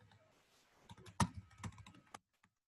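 Computer keyboard typing in a short, uneven burst of key clicks with one sharper stroke in the middle, close and fairly quiet, with no talking.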